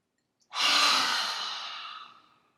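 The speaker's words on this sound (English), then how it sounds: "Two more times, breathing in." During a chakra meditation session, a single deep, audible breath rises sharply and trails off gradually over about two seconds, close and clear, with no speech.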